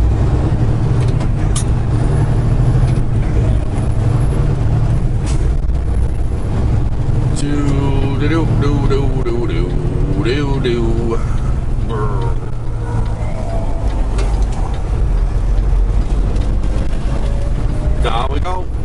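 A farm truck put into gear and driving off, with a deep, loud engine rumble throughout, a hiss of the air brake releasing, and someone talking over the machinery.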